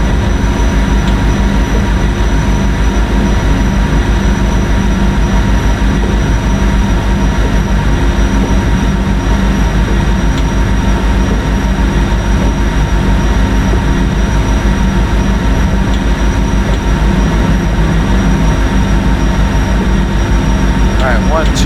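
A PRR V2 Santa Fe Express train in a video game runs with a steady, loud engine drone and rumble that holds constant throughout without pause.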